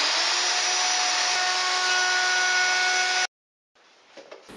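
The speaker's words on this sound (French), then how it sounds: "Et je vais fraiser 1 mm plus profond que ce qu'il y a actuellement." Wood router cutting dovetail grooves in wood for a bathroom cabinet, taking a pass 1 mm deeper: a loud, steady high-pitched whine that runs unbroken for about three seconds, then cuts off abruptly into a short silence and faint workshop clatter.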